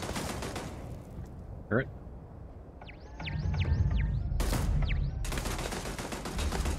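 Enemy gunfire in the space shooter game Starfield, with sharp zapping laser-like shots in several quick bursts and a louder volley near the end, heard over game ambience while a voice speaks briefly.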